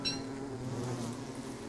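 Bees buzz in the game Don't Starve, a steady droning hum that holds evenly throughout at moderate volume with no voices over it.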